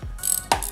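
A ratchet tightens a bolt on a truck engine, giving two quick bursts of clicking pawl action, close and fairly loud, with no talking.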